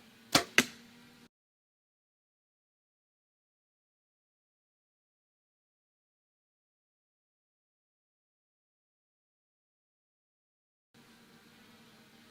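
An arrow fitted with a Sevr 1.5 hybrid broadhead strikes a target with two sharp, loud whacks close together, followed by a long silence and a faint low hum near the end.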